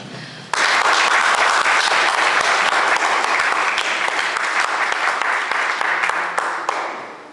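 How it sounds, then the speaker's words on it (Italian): An audience applauds after a poetry reading at an evening event. The clapping starts abruptly, stays loud and dense for about six seconds, then tapers off. "Allora, applausi meritatissimi per Michele, ancora buonasera a tutti."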